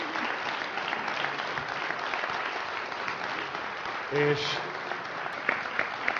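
An audience at a Hungarian poetry contest semifinal applauds a contestant with steady, sustained clapping that fills the whole stretch, while a presenter's voice carries over it.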